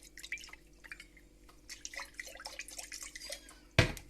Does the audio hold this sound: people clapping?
no